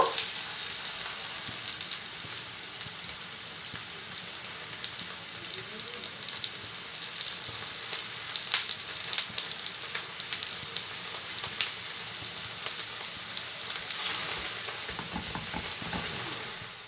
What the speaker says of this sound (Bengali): এই পাশটা আমার ভাজা হয়ে গেছে, এই পাশটাও ভেজে নেব।